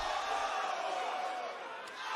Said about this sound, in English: Dude, this crowd is eating him up.